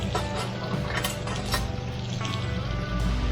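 Steady crackling sizzle of pork chops frying in a hot cast iron pan, with occasional metallic scrapes and clinks of a utensil against the pan.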